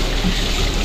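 Water runs steadily over freshly caught fish being washed at night, a continuous close trickle with no talk.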